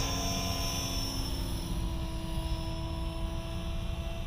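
A steady, buzzing rotor and motor whine of an Align Trex 470LP model helicopter hovering close by, continuous and even throughout with no voices.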